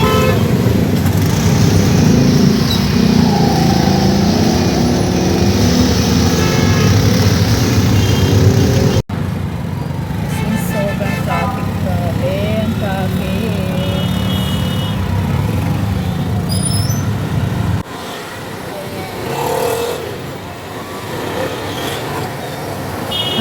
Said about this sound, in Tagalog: Ganyan ang o ganito ang traffic dito sa Karachi.